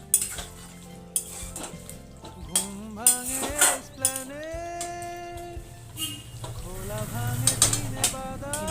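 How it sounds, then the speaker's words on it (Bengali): Cooked chicken in gravy poured from a pan into a bowl, with clinking utensils, scraping spoon strokes and metallic knocks against cookware, close and fairly loud; no one talks. "আমি একটা বোল নিয়ে নিয়েছি বোল নিয়ে নিয়েছি এর মধ্যে আমি এটাকে ঢেলে নিচ্ছি"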